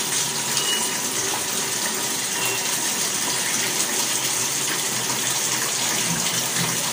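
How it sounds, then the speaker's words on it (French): Water pours steadily into a jerrican for an immersion shower, a constant rushing gush close by with no break and no voices. "je vais mettre de l'eau jusqu'ici"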